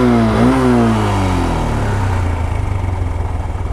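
Four-year-old motorcycle with about 45,000 km on it, engine revving up briefly then settling into a loud, close, throbbing idle with a steady pulsing rhythm.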